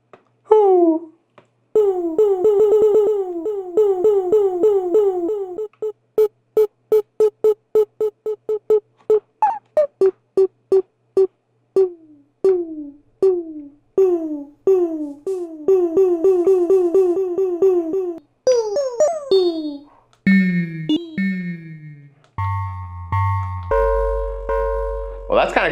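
A recorded voice sample played back heavily transformed on an Ableton Move with reverb, redux and saturation, coming out as a run of pitched, chopped synthetic tones and stuttering notes, rising into bright chords and deep bass near the end.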